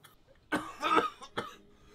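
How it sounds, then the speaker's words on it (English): A man with a cold gives a short run of rough, wet coughs, two close together and then a third after a brief pause, heard nearby and alone. "That cough sounds pretty bad."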